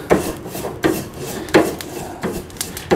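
A grill brush from a Grill Heat Aid BBQ tool set scrapes crud off metal grill grates in steady repeated strokes, each a close, loud, gritty rasp, about five passes in quick rhythm.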